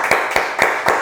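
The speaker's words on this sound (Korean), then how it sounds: "주님께 감사와 영광의 박수 올려드리겠습니다" Congregation clapping in praise during a Korean church Sunday worship service, heard as four sharp, evenly spaced claps in about a second, close and clear with no voices.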